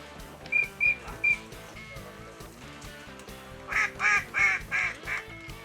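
A duck quacks outdoors in a short series of three calls, then a louder burst of four or five quacks after a pause, with faint background noise between.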